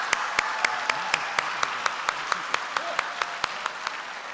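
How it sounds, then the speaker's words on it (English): Applause from an audience at an education awards show, with a dense wash of many hands and a louder, rhythmic clap repeating about every quarter second close to the microphone, steady throughout. "Let's give them a big round of applause"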